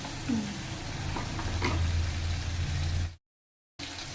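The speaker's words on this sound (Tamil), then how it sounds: "நல்லா தக்காளி பெரிய பெரிய தக்காளி, பழுத்த தக்காளியை 3 தக்காளி அதை கொஞ்சம் வதங்கட்டும்" Three large ripe tomatoes sauté in a pan after ginger and garlic for a capsicum egg gravy, giving a steady close sizzle with faint stirring touches and a brief silent dropout near the end.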